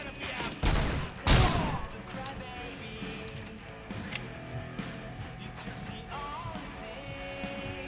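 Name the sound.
gunfire in RoboCop: Rogue City video game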